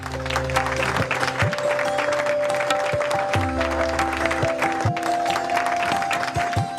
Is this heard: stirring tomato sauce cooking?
no